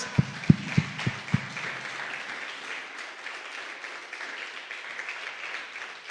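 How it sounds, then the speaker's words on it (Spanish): Several sharp, evenly spaced low thumps open, followed by soft, sustained applause from a church congregation that continues quietly to the end. "Y ahora sí sigan los aplausos"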